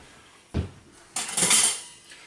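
Butternut squash being put into a bowl in a home kitchen: one dull thud, then a longer scraping, clattering rattle of utensil against dish, close and moderately loud, with no talk.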